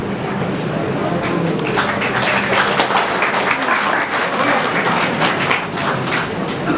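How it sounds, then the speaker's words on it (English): Sustained audience applause from a crowd at a company recruitment drive, a dense steady wash of many hands clapping together for several seconds at an even, fairly loud level, with no voices rising above it. "So if you're clapping for SAP."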